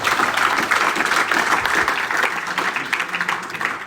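Audience at a general assembly breaking into sustained applause, dense steady clapping filling the room for the full length with no speech over it.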